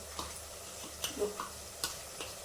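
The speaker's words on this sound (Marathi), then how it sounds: "कांदा फ्राय झालाय आपला आपण टाकूया आता वाटलेली ग्रेव्ही ग्राइंड केलेलं" Ground gravy paste going into a pan of frying onions and tomato while making veg pulao, a soft sizzle with a few light stirring scrapes and taps, close and quiet.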